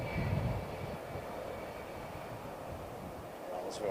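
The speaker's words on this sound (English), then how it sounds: "Rolls-Royce RB211s. More modern variant, I think, of the RB211 as well. Straight off the BA 747s." Rolls-Royce RB211 engines on a British Airways Boeing 747 give off a faint, steady jet rumble with a thin high whine, briefly louder at the start and end of the short stretch.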